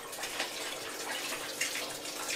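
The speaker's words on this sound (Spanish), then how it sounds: "se, mojan y por todas partes cae el agua" Greenhouse irrigation sprays water down over plants in a constant broad hiss of falling droplets, close and even, with no voices over it.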